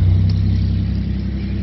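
A beat-up old truck with a bad muffler rumbles past outdoors, a loud, steady low growl of engine and exhaust filling the clip without speech.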